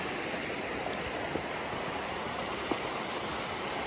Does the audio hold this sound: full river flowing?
yes